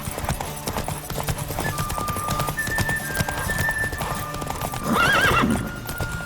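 Hooves pound in a fast gallop in The Witcher 3: Wild Hunt, then the horse lets out a loud, close whinny near the end over the ongoing clatter and music.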